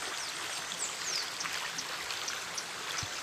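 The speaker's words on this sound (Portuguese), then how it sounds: "Olha só o barulho d'água aí. Aí dentro dessa gruta aí é a cachoeira." Running water from a waterfall inside a grotto on a rural farm gives a steady, faint hiss of splashing flow, with a few high bird chirps over it and no talk.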